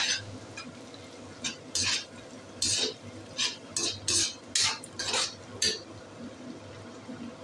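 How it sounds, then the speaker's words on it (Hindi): Food frying in a pan on medium heat while a spoon stirs it, with repeated scraping strokes and soft sizzling between them, close and moderately loud. "मीडियम आंच पे अभी तो कर लेते हैं थोड़ा सा फ्राई"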